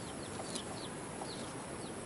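A brooding turkey hen sitting on a clutch of eggs in a cardboard box gives soft, low clucks against a steady background hiss, with faint chirps from chicks.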